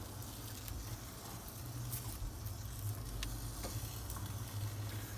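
Peppers roasting on a Pit Barrel Cooker for fire-roasted salsa give a steady, soft sizzle and crackle throughout, with faint pops here and there.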